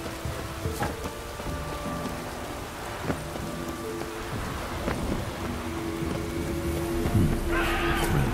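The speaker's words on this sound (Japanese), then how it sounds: "くそ、嵐だ。" A storm on Bald Mountain in The Witcher 3 brings dense, steady rain with faint rumbles of thunder underneath, a few scattered tonal game sounds over it, and a hiss that swells toward the end.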